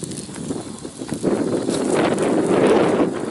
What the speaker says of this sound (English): Of course, we got a good wind.